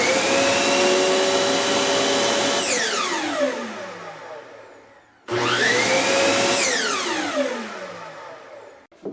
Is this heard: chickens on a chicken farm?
no